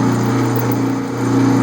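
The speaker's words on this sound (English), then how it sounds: "you got to keep your drill bit moving" A drill bit bores into 303 stainless steel on a machine, giving a steady, loud mechanical hum and grind that holds evenly throughout, with no talking.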